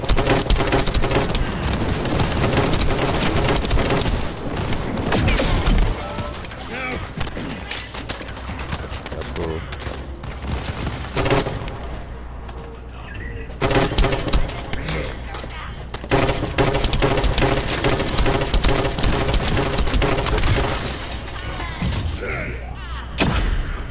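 Rocket launchers unload volleys of about five rockets at once in The First Descendant, a dense, loud barrage of rapid booming shots layered under a frantic battle soundscape.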